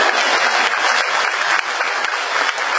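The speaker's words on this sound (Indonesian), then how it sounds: "Mana tepuk tangannya?" An audience at a religious lecture bursts into thick, sustained applause, a continuous wash of many hands clapping at steady volume from start to finish.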